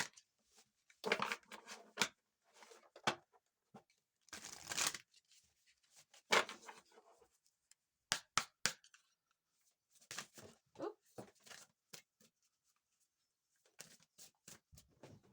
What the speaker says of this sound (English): Just going to get an oracle card.